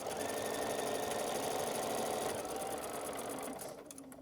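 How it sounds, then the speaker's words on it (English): Sewing machine stitching quarter-inch quilt fabric seams runs as a steady, close, continuous whir, easing off slightly near the end. "I'm going to match those seams, and I'm going to be able to sew that 1/4 inch"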